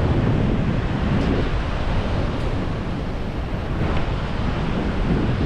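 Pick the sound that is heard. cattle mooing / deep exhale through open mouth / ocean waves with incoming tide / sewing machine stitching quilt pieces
ocean waves with incoming tide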